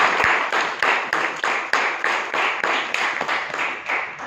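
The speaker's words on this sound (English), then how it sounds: "A round of applause to all of you guys here." Audience at a Toastmasters meeting in Bangalore clapping, heard as a fairly close burst of irregular handclaps pulsing in quick rhythm that carries on steadily for several seconds without talk.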